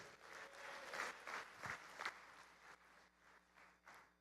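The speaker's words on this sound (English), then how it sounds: "Give yourselves a big round of applause." Applause from a keynote audience at Zoholics 2025 in Houston, a steady wash of clapping from many hands in a large room, fairly distant and soft, with no talk over it.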